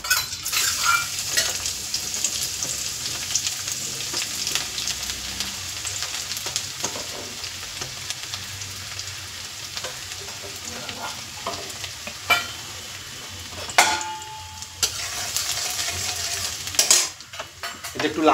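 Finely chopped ginger and garlic sizzle steadily in hot oil for egg tadka, with a continuous close frying hiss and occasional scrapes and clinks of a spoon stirring the pan.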